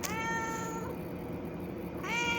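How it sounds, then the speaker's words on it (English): A cat meows in a long, drawn-out tonal call that fades and then rises into a second meow near the end, fairly close and clear with no talking. "Go on, cat."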